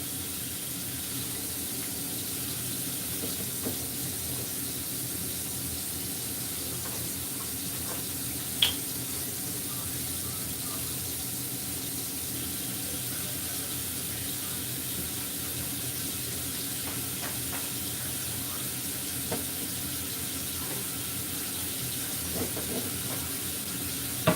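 A kitchen tap runs steadily for a long stretch as water is left on to heat up, an even hiss with a few faint clicks and clatters in the background and no talking.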